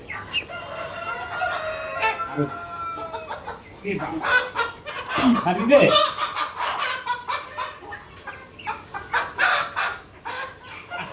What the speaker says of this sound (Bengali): সেমি আডাল মোরগগুলো